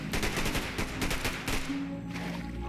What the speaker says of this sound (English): we're hearing gunshots now.